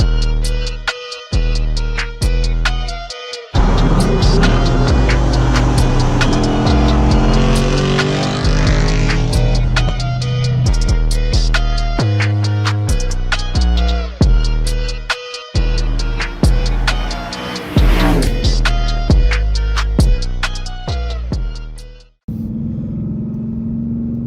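A Ford Mustang Boss 302 driving hard, its V8 roaring loud and close through repeated rev climbs and sharp gear shifts, each pull rising in pitch before cutting out, with brief lifts between runs and a lower idle burble at the end.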